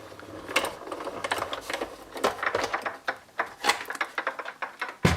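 A Sizzix die-cutting machine presses a gingerbread card sandwich, giving a close, steady run of clicking and rattling mechanical ticks as the plates pass through the rollers.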